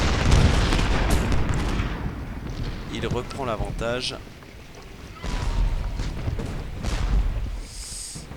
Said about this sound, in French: Ah, des canons.